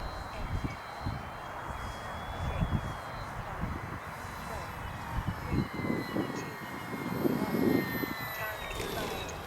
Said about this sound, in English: Nice gentle flying plane